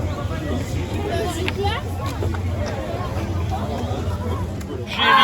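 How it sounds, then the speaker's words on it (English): A large crowd at the Paris 2024 Olympic rowing venue fills the air with a steady murmur of chatter and nearby voices, swelling slightly at the end. "There's a huge crowd here."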